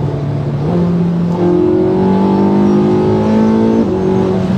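A ten-year-old fast hybrid car accelerating hard, its engine and motor note rising in pitch through several stepped gear changes, loud, close and continuous with no talk.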